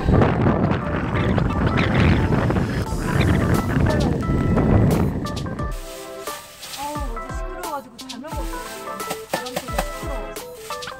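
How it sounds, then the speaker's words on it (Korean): Strong winter wind roars loud and broadband through a heavy snowstorm on Chuja Island, Jeju, heard from a caravan door; the gusting fades after about five seconds into quieter, tonal ambience with brief sounds. "아 바람이 부니까 장난 아니네."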